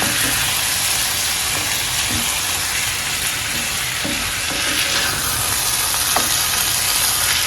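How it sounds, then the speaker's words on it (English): Coconut milk is poured into simmering basmati brown rice and stirred, giving a loud, steady sizzle and bubbling hiss with faint spoon scrapes and knocks against the pot throughout. "Go ahead and add our coconut milk and stir our coconut milk in."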